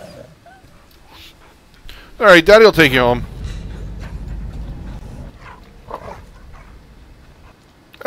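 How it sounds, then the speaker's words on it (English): A puppy in the survival video game Fade to Silence lets out a loud, brief burst of whining, yelping cries up close, with someone talking over the game sounds before and after. "Another puppy!"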